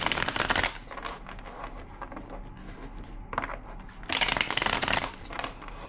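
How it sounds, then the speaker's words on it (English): A deck of tarot cards is shuffled by hand in a few quick riffling bursts at the start and near the end, with softer card handling and slides in between, close and alone. "2 more shuffles."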